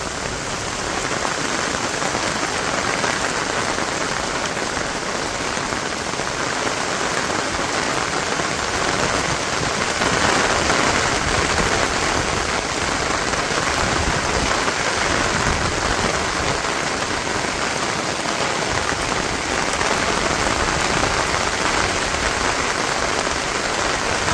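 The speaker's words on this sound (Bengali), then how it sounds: "এই কারণে বৃষ্টিটা আরো নামতেছে প্রতিদিনই" Heavy rain pours steadily in a village, a dense continuous hiss of drops on surfaces, loud and close throughout with no voices.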